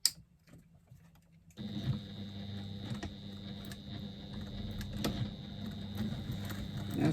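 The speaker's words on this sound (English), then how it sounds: "as we stitch our pocket in place" A domestic sewing machine runs steadily, stitching a pocket in place on a garment, after a short quiet lead-in. It keeps up a continuous close mechanical hum with a fast ticking needle rhythm and no speech.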